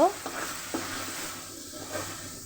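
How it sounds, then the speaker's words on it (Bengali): Onions cooking in a pan sizzle steadily while a spoon stirs them, with a couple of scraping knocks early on and a soft continuous fry close by, no one speaking. "এখন আমি একটু নেড়ে চেড়ে দেব"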